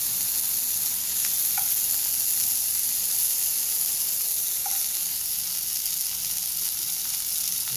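Wagyu beef searing in a hot pan, a strong, even sizzle and hiss held steady throughout, close up, with a couple of faint clicks and no voices.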